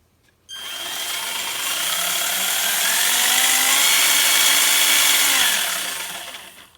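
An HG-P407 metal 4x4 RC pickup crawler's drivetrain whirs smoothly and fairly quietly under throttle in low gear. The whine starts suddenly, holds a steady rising pitch for several seconds, then tapers off.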